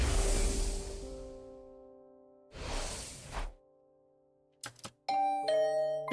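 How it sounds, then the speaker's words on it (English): A two-tone electronic doorbell chime rings inside The Hundred Line: Last Defense Academy game after soft whooshing transitions, with a clear, ringing ding-dong alone and no speech. "Was that my doorbell?"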